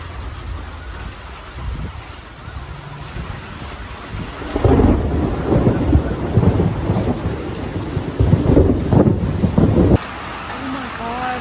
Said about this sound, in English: Oh my gosh, it's raining a little bit.